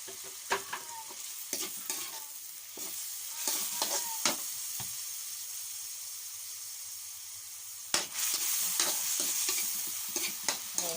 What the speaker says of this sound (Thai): ผัดจนเรียกว่าสุกหอมดีก่อน